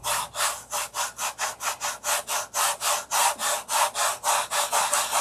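A wooden model airplane part is shaped and sanded by hand with rapid, rhythmic back-and-forth rasping strokes, about twenty even passes, close and loud with no talking.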